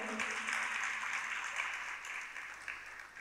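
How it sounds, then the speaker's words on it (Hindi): Audience clapping for children at a religious discourse, a soft, distant wash of applause that holds steady and then gradually thins, faint and alone. "चलो तालियां बजाओ बच्चों के लिए।"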